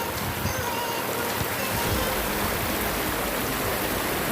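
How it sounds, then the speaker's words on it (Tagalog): Stream water flows steadily at a free-entrance riverside resort with cottages in Malilipot, Albay, a continuous broadband rush that stays close and even throughout, with no talk over it. "Ayan, ang tubig."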